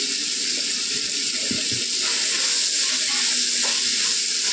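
Chili powder frying in a pan while egg fried rice is being cooked makes a steady, loud hissing sizzle, close and continuous, with faint scraping underneath.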